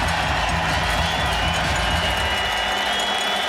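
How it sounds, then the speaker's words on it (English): Stadium crowd at a CFL football game between the Saskatchewan Roughriders and Montreal Alouettes, giving a loud, sustained roar of cheering and applause that fills the whole stretch and eases slightly toward the end. "Crowd rises up."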